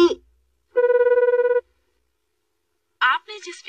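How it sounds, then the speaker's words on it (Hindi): A cartoon telephone rings with one steady electronic trill lasting under a second and goes unanswered, with brief voices heard before and after the ring. "हैरी मेरा फोन क्यों नहीं उठा रहे?"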